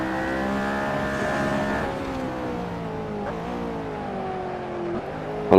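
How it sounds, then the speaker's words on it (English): A McLaren race car launches and accelerates on a track, its engine note climbing through the gears in rising sweeps, loud and close, with a brief shift dip before a final surge. "Launch this McLaren now down here"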